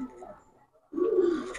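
A Pakistani high flyer pigeon gives a short, low coo that swells up after a moment of near silence, close and moderately soft.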